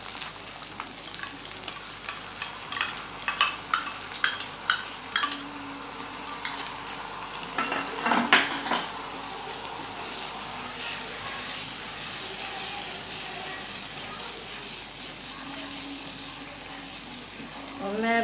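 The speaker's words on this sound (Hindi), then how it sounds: "ये हमारा मसाला प्याज और अदरक का पेस्ट ब्राउन हो गया है। अब हम इसमें टमाटर की प्यूरी डालेंगे" Tomato puree goes into a browned onion-ginger masala paste sizzling in a pan for a mixed vegetable sabzi, with a burst of frying crackle and stirring clatter midway, then a steady gentle sizzle.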